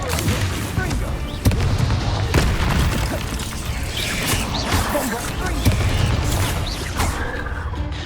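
Explosions from the Bombarda spell in Hogwarts Legacy, several sharp booms and crashing impacts amid battle noise, loud and close.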